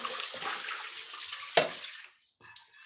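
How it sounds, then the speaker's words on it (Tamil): Water splashes and runs steadily while boiled lung meat is washed for biryani, a close, continuous rush that fades out, then a couple of brief splashes and drips. "நுரையீரல் வேக வச்சோம்ல அந்த அழுக்கு இருக்குது அதனால கழுவிடலாம்"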